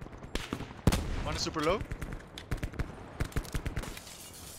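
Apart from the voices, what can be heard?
gunshots in a video game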